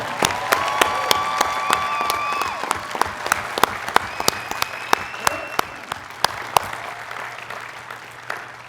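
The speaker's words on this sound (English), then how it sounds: "Let's hear some applause, College of Engineering." A large commencement audience applauds the new College of Engineering master's and doctoral graduates, a steady, dense wash of clapping with sharp individual claps standing out and faint cheering in the hall.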